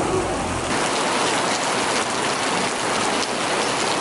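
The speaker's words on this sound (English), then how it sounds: "There was 2 burst water mains and torrential rain" Heavy, steady torrential downpour of rain roaring continuously, a dense wash of hiss drumming on surfaces with no pauses.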